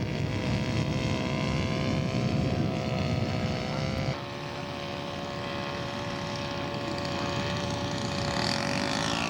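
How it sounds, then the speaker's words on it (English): A scale model aircraft flying past at a scale aircraft show, its engine a loud sustained drone close overhead whose pitch drops as it passes, with no talk. "Here's Joe's flyby"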